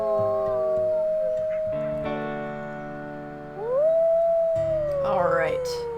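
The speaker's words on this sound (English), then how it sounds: "Oh, I guess it's time for a howl." Wolves in WolfQuest howl in long, rising and sustained tones that overlap as several pack members join in, loud and close.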